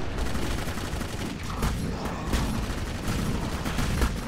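Rapid sustained gunfire in Clive Barker's Jericho, a dense fusillade of shots crackling continuously at close range with sharp bursts standing out.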